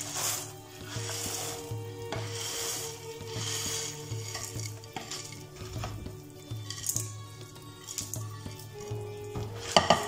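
Sweet boondi poured into a pan of sugar syrup and stirred, giving a steady wet sizzle with soft scraping and clinks of a spoon against the pan, close and continuous without talk.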